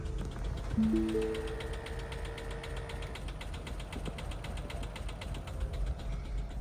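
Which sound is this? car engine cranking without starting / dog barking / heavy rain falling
car engine cranking without starting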